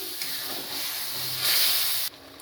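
Water goes into a pan of spiced, pre-boiled elephant foot yam that has been frying, raising a steady steamy hiss that swells louder near the end and then cuts off abruptly.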